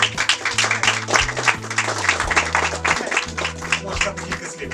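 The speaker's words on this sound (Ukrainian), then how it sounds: "оплески" Applause at an indoor gathering that thanks a volunteer who supports soldiers: steady clapping from a group, mixed with music and voices, kept at an even, fairly loud level throughout.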